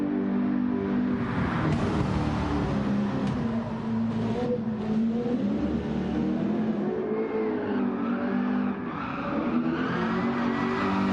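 On the Nordschleife a car drifts with tire smoke, its engine roaring close and loud with shifting revs. Smeared tire squeal runs through the sustained noise, with no talking over it.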